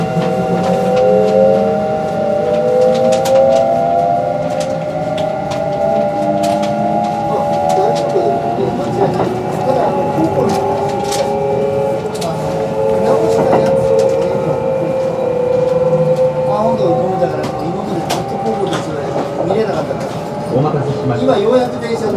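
A Kintetsu 22600 series limited express train with Mitsubishi IGBT-VVVF traction runs between Yamato-Yagi and Yamato-Saidaiji, heard from inside with rising and falling motor whine, rumble and rail clatter throughout, while people talk nearby.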